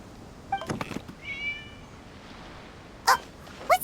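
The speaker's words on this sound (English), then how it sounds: "It was just a cat." A cat in a video game gives a few short meows, faint and spaced apart over a quiet ambient background.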